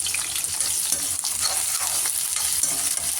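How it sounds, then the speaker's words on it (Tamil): Whole spices and small shallots frying in hot oil for a village-style mutton fry, a steady dense sizzle with occasional stirring scrapes, loud and close with no talk. "எண்ணெய் காஞ்சதும் பட்டை, சோம்பு, இலை, பூ போடணும். போட்டு சின்ன வெங்காயம்"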